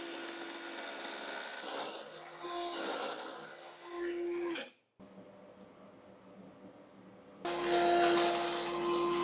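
A Dremel Blueprint saw whines steadily as it cuts oak trim, a high-pitched motor drone with brief pauses and a short silence before the blade spins up again at close range.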